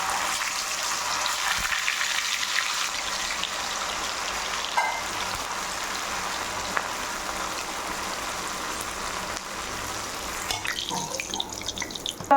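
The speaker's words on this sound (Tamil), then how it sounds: "அந்த சூடான எண்ணெயில் உருட்டி வச்ச உருண்டையை ஒன்று ஒன்றா போட்டு பொரிச்சு எடுக்கணும்" Chicken balls deep-frying in hot coconut oil, a steady dense sizzle and crackle that holds at an even level throughout, close and fairly loud, with no voices.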